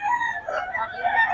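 A rooster crows once at a chicken market, a loud, close, drawn-out call with a wavering tone lasting just over a second and no talk over it.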